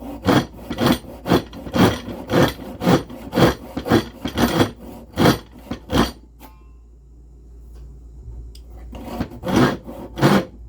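A hand saw with crosscut teeth cuts through wood in quick, evenly spaced back-and-forth rasping strokes. The sawing stops for a few seconds, then resumes with several more close, loud strokes.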